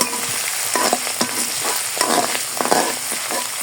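Fried onions and grated ginger sautéed in a pan, a dense continuous sizzle with quick repeated stirring scrapes, close and loud, no voices.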